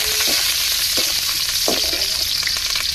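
Curry leaves sizzling in hot oil while tempering for a chicken leg curry, a loud continuous crackling fry close by, with a few stirring scrapes at regular intervals.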